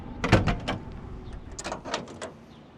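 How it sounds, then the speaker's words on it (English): A few close mechanical clicks and clunks as the door latch of a 1970 Chevelle SS 502 releases and the door swings open, in a quiet setting. "Doors opened up wonderfully."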